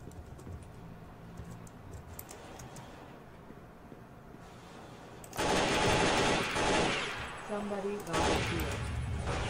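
Rapid automatic gunfire rattles in the shooter game America's Army, quieter bursts at first and then a loud, sustained fusillade of shots with keyboard clatter, while someone talks at times.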